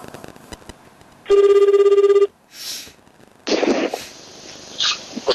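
A telephone ringback rings once during an outgoing call, a steady electronic tone that stops abruptly, preceded by faint clicks and followed by a brief pickup noise and the start of a voice on the line.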